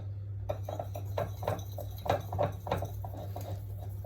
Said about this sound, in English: Just add this a little bit at a time and give it a little whisk out.